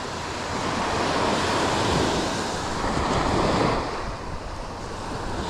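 Surf breaks steadily on a fishing beach, a broad continuous wash of low waves with some wind buffeting the microphone, fairly close and moderately loud throughout with no talking.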